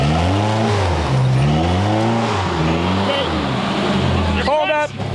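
Truck engine revs hard and steadily on the gas, pitch rising and falling in long sweeps, with people talking over it; the truck is towing a trailer and struggling for grip on a slope at an embankment.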